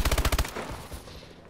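Rapid machine gun fire in the shooter game Call of Duty: Advanced Warfare, a loud close burst of about seven evenly spaced shots followed by fading echoes and scattered distant thuds.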